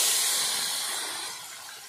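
Water poured into hot oil in a cooking pan sets off a loud, close hiss of steam and sizzle that slowly fades over under two seconds, with no talk.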